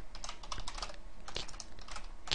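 Rapid typing on a computer keyboard while writing Qt database code, with a dense run of close, crisp key clicks and a few louder strikes. No one speaks.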